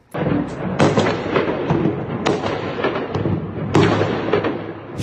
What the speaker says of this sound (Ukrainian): в районі аеродрому Енгельс пролунали потужні вибухи